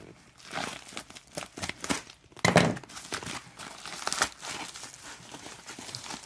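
Crinkly crumpling and tearing of a taped package wrapper comes in uneven bursts, with one louder rip partway through. The handling noise sounds close but fairly quiet.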